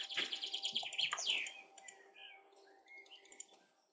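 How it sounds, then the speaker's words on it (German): Small wild birds chirp and tweet outdoors in a quick run of bright, high calls, busiest at first and then thinning to scattered faint notes, with no talk over them. "Der Vogel, den man da hört"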